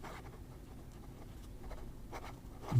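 The fine, springy nib of a Hongdian D1 skeleton fountain pen scratches softly across paper in a faint, steady stroke with a few slightly louder flicks near the end.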